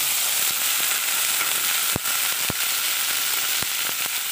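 Steady hiss of chopped onions frying in hot oil with popped mustard seeds, with a few sharp pops and crackles scattered through; no voices.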